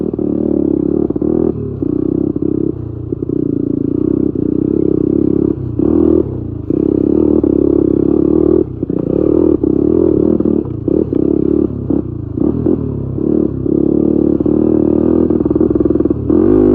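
An old Honda 250X three-wheeler's small engine runs loud and close while being ridden, a continuous rough drone that dips and surges as the throttle is eased and reopened, with rattling clatter and no talk.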